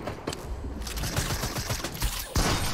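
Gunfire in a Fortnite Team Rumble match, including a long-range sniper shot, comes as dense overlapping bursts of shots over noisy game sound with no talk.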